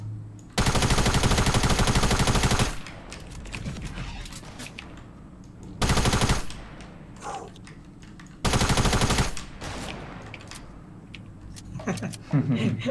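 Bursts of Fortnite gunfire: three loud, dense volleys of rapid automatic shots about two seconds apart, with quieter game sounds and voices between them.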